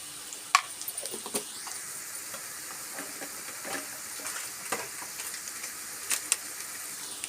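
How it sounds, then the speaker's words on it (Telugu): Potatoes and peas fry in a pan with coriander powder, cumin powder and chaat masala, giving a steady, moderate steamy hiss broken by a few sharp clinks and taps. "ఇవన్నీ వేసుకుని వేయించాలండి"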